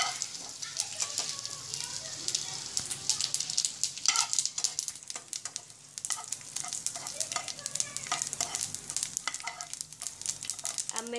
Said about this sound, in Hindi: इसी में डाल देती हूँ ये तिल, तिल भी हमें भूनने हैं।